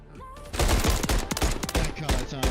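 Gunfire crackles through a Call of Duty championship match, dense bursts of sharp overlapping shots with brief gaps, loud against the game's background.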